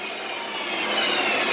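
Metal lathe spinning at its fastest speed of 2,000 RPM, a continuous broadband whirring hum that holds steady and swells slightly louder over a second and a half, close by with no talking.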